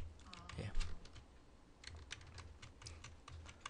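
Computer keyboard keys tapped for Photoshop shortcuts, a quick series of close, light clicks in irregular bursts, with a brief soft thump early on.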